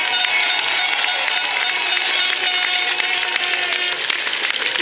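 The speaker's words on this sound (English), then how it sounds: "I think they deserve a round of applause to begin with" Crowd applause for a cricket team at a Cup Match, broad sustained clapping from a large outdoor gathering, steady and moderately loud with faint voices mixed in.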